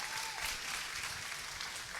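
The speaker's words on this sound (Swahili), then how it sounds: "simpigie makofi huyu kabisa" A church congregation applauds steadily to welcome a longtime member back; the dense clapping runs evenly and alone throughout.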